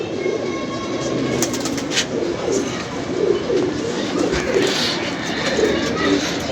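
Pet pigeons coo in low, repeated murmurs against a steady background rumble, with a few faint sharper clicks mixed in.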